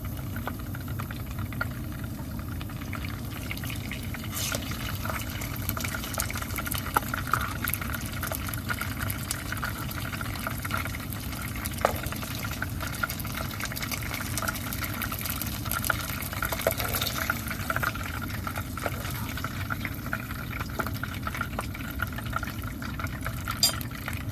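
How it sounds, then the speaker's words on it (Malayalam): Chicken pieces for chicken kondattam deep frying in oil, a steady dense bubbling and crackling sizzle that continues evenly throughout without talk. "നമുക്കിതുപോലെ തന്നെ വറുത്ത് എടുക്കാം"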